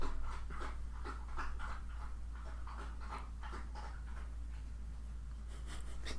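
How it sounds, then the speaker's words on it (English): A dog laps water from a bowl two rooms away, a faint, steady run of quick wet licks over a low hum with no talking. "Is that your dog drinking?"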